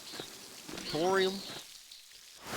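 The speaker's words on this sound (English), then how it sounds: "it's raining and shit now" Rain in the video game Pentiment makes a steady soft patter throughout. A whistly, rising voice-like tone sits over it, and the rain noise briefly dips before returning.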